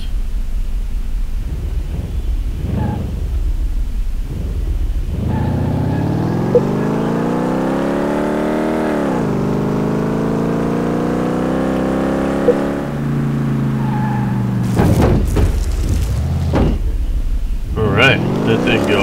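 An engine in Car Mechanic Simulator 2018 revs up hard during an acceleration test, rising in pitch to a loud sustained roar before dropping back, with a few scattered bumps and clicks near the end.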